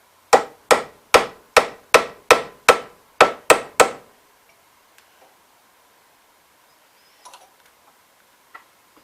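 A small hammer taps a seal into a hydraulic cylinder during a Terramite T1 rebuild: ten sharp, evenly spaced metallic knocks up close, then near silence with a few faint clicks.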